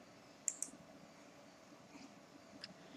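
Computer mouse clicks on a link in a student portal, two quick sharp clicks close together, then a fainter single click, over a quiet room hum.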